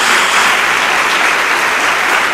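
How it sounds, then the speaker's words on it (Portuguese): A church congregation bursts into steady, dense applause during a worship service, a continuous wash of many hands clapping close by with no voices standing out. "Dê uma salva de palmas a Jesus."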